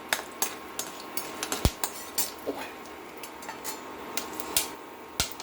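Mustard and spices frying in a pan for a winter vegetable kootu, sharp scattered pops and crackles at an irregular pace, fairly near and clear with no talk over them.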